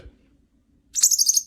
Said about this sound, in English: He typically doesn't talk on command, but occasionally will blow raspberries, like so.